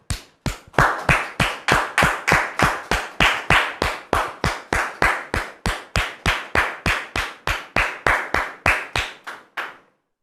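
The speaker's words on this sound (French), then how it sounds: "Est-ce qu'on peut les recevoir sous vos applaudissements, s'il vous plaît?" Hands clap in a steady, even rhythm, about three claps per second, fairly loud and close, stopping abruptly after roughly nine seconds, with a few final claps at the end.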